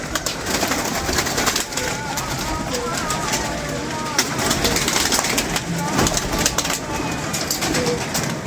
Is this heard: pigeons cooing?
yes